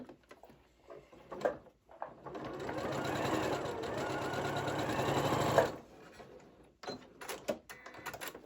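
A sewing machine stitches a keychain wristlet, a steady close whirring run of about three seconds bracketed by quieter handling clicks and taps.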